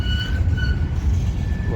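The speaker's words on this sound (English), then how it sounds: "I can see some of the tank cars of that same train that is going into the yard, just down there." Freight train with tank cars rolling into a Minneapolis rail yard, a steady low rumble with thin, sustained wheel squeals over it, heard from a distance.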